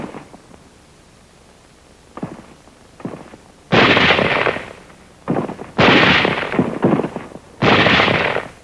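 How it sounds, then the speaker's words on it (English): Sniper fire in World War II combat newsreel footage as 38th Division troops move inland over rough hill country; sharp, loud bursts of gunfire crack out repeatedly, a few lighter shots first, then heavier volleys in rapid succession. "Elements of the 38th Division moving inland over rough hill country run into some sniper fire."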